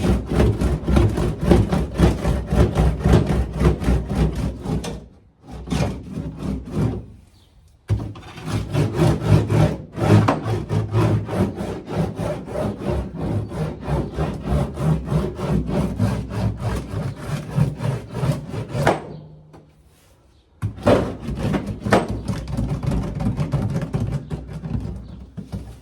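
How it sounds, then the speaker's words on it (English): A wooden roller pressed back and forth over sound deadening material inside a 1972 VW Super Beetle, making a continuous close rubbing and scraping with short pauses between passes. "You get these wooden tools for rolling it. You're gonna roll it both directions."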